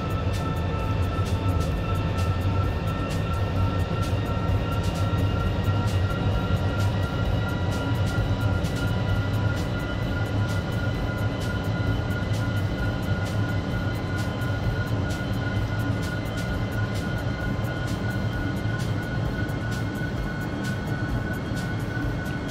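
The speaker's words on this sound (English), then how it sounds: "you can hear that, you can see the plane moving about, you can hear that auto throttle going mad" Airbus A350 in the X-Plane 11 flight simulator buffeted by strong wind, a continuous rumbling engine and airflow roar with the auto throttle working constantly and rapid faint clicking ticks throughout.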